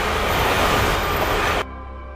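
An oncoming train in the anime Serial Experiments Lain gives a loud, dense roar that cuts off abruptly near the end, leaving a quieter hum.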